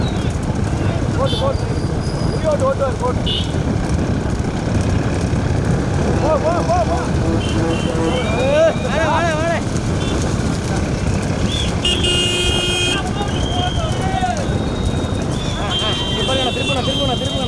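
Bullock carts arrive one after another during a big-bull cart race on a road at Aranthangi, with clattering hoofbeats and engine noise blended into a busy crowd while loudspeaker announcements and shouting run throughout.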